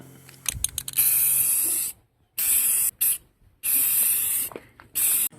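Ace clear coat sprayed from an aerosol can onto a BMX bike frame, a series of loud hissing bursts of about a second each separated by short pauses, close and alone.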